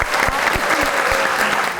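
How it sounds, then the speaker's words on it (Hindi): Audience applause at a live Eid ul Adha special stage show, steady dense clapping with a few sharp close claps standing out, filling the short moment without speech. "तालियां।"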